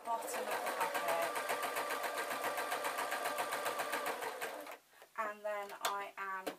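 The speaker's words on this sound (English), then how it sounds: "all I'm doing is literally sewing around the bottom of the puppet" A sewing machine runs steadily up close, stitching around the bottom of a fabric zebra puppet, then stops as a voice speaks over a few brief starts of the machine.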